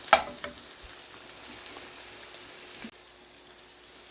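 A kilogram of chicken fries in a pan with spices, giving a soft, steady sizzle that stays faint and close, with one sharp clink near the start and no talk.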